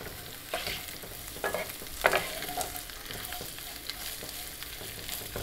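Sliced onions and curry leaves sautéing in a pan for a Kerala duck egg roast, a continuous close sizzle with scattered crackles and a few sharp pops, moderately loud with no voices.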